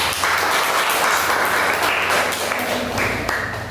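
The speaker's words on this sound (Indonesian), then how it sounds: "Kita beri tepuk tangan untuk diri kita sendiri." Students applaud together in a classroom, a steady wash of clapping that holds for a few seconds and fades slightly at the end, with faint low hum beneath.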